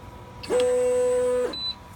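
A printer beeps during calibration against its print surface: a single sustained mid-pitched electronic tone lasting about a second, then a short, thin, high chirp, both clear over faint background hum.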